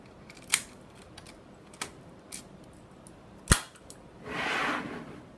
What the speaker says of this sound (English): Put the key into the cylinder and turn left and pull it out.